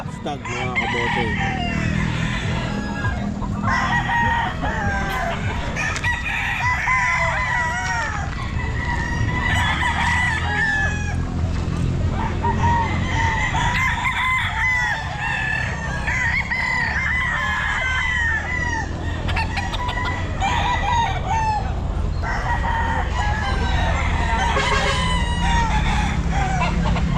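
Stag roosters crow loudly and repeatedly at a busy pet market, many calls overlapping with clucking and a steady crowd murmur underneath for the whole stretch.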